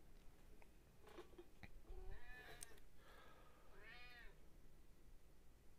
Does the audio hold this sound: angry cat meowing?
yes